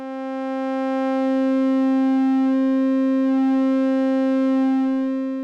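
A steady, bright formant oscillator synthesizer tone with a bent waveform and rich buzzy timbre, held evenly for several seconds with no other sounds.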